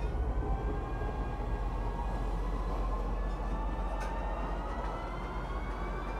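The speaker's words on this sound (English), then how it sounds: "I'm going to enter the train and let's travel to Metro Center." Steady ride aboard a train in the video game Star Citizen at Lorville, a continuous low rolling rumble with faint high tonal whines, even and unbroken, with no talk.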